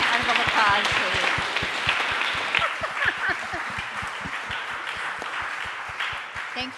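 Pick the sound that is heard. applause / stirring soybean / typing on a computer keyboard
applause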